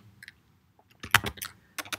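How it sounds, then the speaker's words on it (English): A few scattered keystrokes tap on a computer keyboard, followed by a quick cluster of crisp clicks, close and clear against near silence. "It's too much typing."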